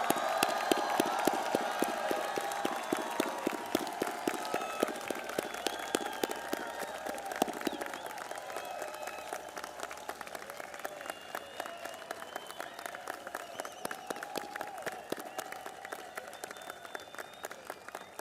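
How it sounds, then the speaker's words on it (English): A large graduation crowd gives a long, loud round of applause for the North Hunterdon High School class of 2024, dense continuous clapping with scattered cheers, sustained throughout and heard from within the audience. "Please join me in offering a big, loud round of applause for the class of 2024."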